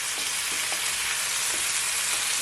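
Chicken pieces sear and brown in a pot for a Jamaican brown stew, giving a steady, loud broadband sizzle with a few faint stirring knocks and no talking.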